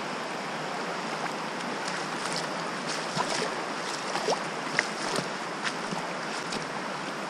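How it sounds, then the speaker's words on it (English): A pretty creek at Window Cliffs State Natural Area flows steadily nearby, a soft, even wash of running water with faint splashes and no voices. "Such a pretty creek."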